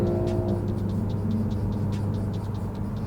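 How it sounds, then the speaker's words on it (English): A Ford Explorer ST with a muffler delete idles and rolls nearby, giving a deep, steady low rumble with faint intermittent ticking over it and no talking. "Explorer ST with a muffler delete"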